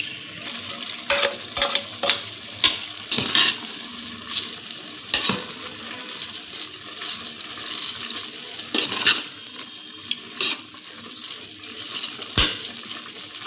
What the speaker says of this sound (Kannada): ಇದನ್ನು ಹಾಕ್ಕೊಂಡು ನೀಟಾಗಿ ಕಲಸ್ಕೊಂಬಿಡೋಣ್ರಿ